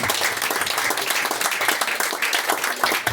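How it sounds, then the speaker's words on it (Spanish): A church congregation claps together at a service, a continuous, even round of applause with no voices over it. "¿Cuánto le damos un aplauso a él?"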